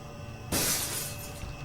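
Glass shatters suddenly during an aircraft cabin emergency, a single loud crash followed by a tinkling, crackling decay of falling fragments against a low cabin hum.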